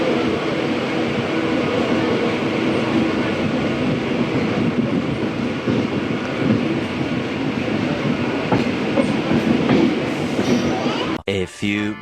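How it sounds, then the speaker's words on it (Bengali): A non-AC local train from Ranaghat runs along the track toward a station, with a loud, steady rumble and wheel clatter inside the carriage, muffled voices underneath, and a sudden cut near the end. "আমাদের ট্রেন এখন সাত বেরিয়া স্টেশনে এন্টার করছে"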